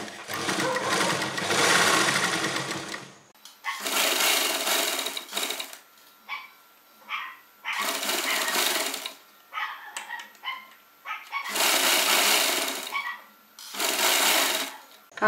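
Sewing machine stitching along the edges of a short jacket, running in several loud bursts of steady whirring separated by pauses, with someone talking in the gaps.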